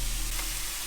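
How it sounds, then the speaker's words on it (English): Chicken breasts sizzle in a hot frying pan, a close, continuous hiss and crackle with no voices over it. "That sizzle is just what you want to hear."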